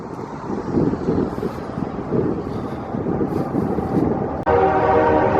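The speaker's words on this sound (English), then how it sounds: "as the train is actually coming by. Very loud train." A loud train rumbles past close by with heavy, continuous clattering of rail wagons and wind buffeting, and a sharp horn-like tonal blast cuts in near the end.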